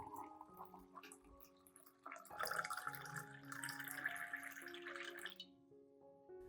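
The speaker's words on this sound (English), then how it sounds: "I will add about 500 milliliters of warm water to help release the nutrients in the oats" About 500 milliliters of warm water poured into an oat mixture, a steady splashing pour starting partway through, running for about three seconds, then stopping abruptly near the end.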